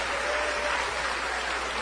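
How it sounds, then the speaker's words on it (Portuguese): A church congregation breaks into steady, dense applause, many hands clapping together at close range in one continuous wash of sound without a break. "vamos dar a melhor salva de palmas para a palavra de Deus"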